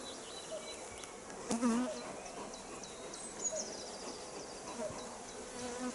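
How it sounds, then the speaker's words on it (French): Honeybees in a hive being smoked by a beekeeper in spring give off a steady, soft, dense buzzing with a few brief louder flares, and no one talks. "J'enfume suffisamment pour que les abeilles montent."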